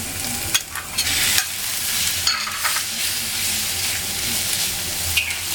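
Diced pork, dried shiitake mushrooms and dried shrimp stir-fry in a hot wok over ginger, giving a loud continuous sizzle with repeated spatula scrapes and knocks against the metal.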